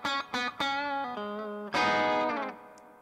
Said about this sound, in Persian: همونطور که میشنوید یه مقدار خیلی کمی ما دیستورشن به صدای گیتارمون دادیم